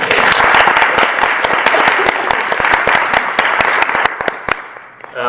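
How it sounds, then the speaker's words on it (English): Audience applause at a high school diversity panel event, loud dense clapping from a crowd that continues strongly and then tapers off near the end. "We'll give you a round of applause."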